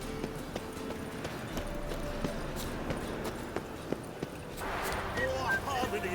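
Horse hooves clip-clopping at a run during a race in The Witcher 3 video game, a quick rhythmic beat of hoofbeats with crowd-like ambience, fairly faint, with a voice speaking over it.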